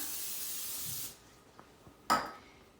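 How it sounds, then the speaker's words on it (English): A long hiss of aerosol cooking spray lasts about a second, followed by a few soft taps and a second short spray burst against a metal muffin pan. "So you'll just lightly spray the pan"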